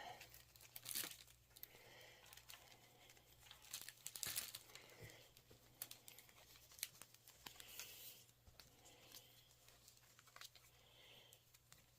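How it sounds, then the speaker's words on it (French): Scissors snip through water-soluble cross-stitch canvas in a quiet room, a series of soft crisp cuts and crinkling rustles scattered unevenly over several seconds, faint and close, with a low steady hum underneath. "je vais mettre un petit coup de ciseau"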